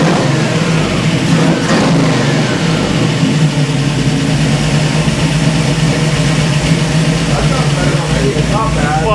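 Tuned small block V8 revving hard on a dyno, a loud rough roar rising and falling continuously with bursts of throttle, with people talking over it.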